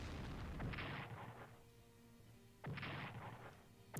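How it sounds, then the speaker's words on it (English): Tactical bombers strike tanks in the Strategic Command WWII strategy game, heard as two heavy booming blasts spaced a couple of seconds apart, each with a rumbling tail. "Probably hit these tanks with our tactical bombers."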